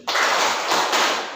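A classroom of students claps hands together in a timed pattern, giving one dense, loud burst of many overlapping claps that lasts about a second before it cuts off.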